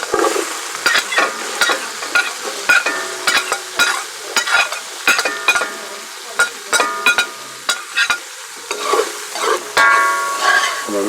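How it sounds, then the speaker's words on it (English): Ginger, garlic and onion stir frying over high heat in a pot, with a steady loud sizzle broken by repeated scraping and stirring strokes of a spoon, close up and with no voices. "I'm going to let it stir fry a little bit, bring out all the aroma, and let it caramelize a little bit"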